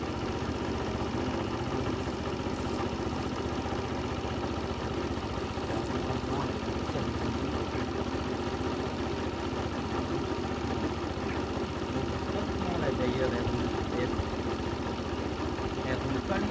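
A motor engine idles steadily and continuously at close range, a dense low rumble that holds throughout with no change in pitch, with speech now and then over it.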